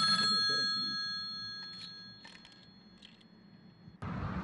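Mobile phone ringtone chirping steadily as tonal rings for about four seconds, fairly faint, alongside quiet indoor background noise, then a louder rustle at the end.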